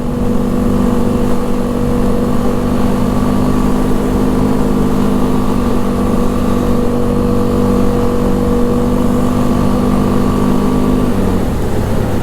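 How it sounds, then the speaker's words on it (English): A 2005 Honda Rincon 650 4x4 ATV engine drones steadily and loud, close up while riding on a road, its pitch holding level for most of the stretch before dropping near the end as it shifts. "you just give it some gas, shift it, second gear, third gear"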